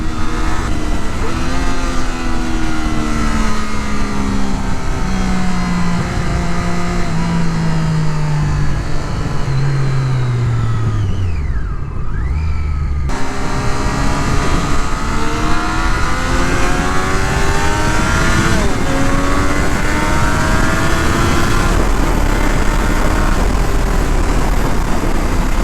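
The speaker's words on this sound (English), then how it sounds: "The triple, it's a beautiful sounding bike" Triumph Daytona 675R triple engine revving hard and loud up close, with long rising gear pulls, a brief dip as the revs drop at a shift, then climbing steadily again.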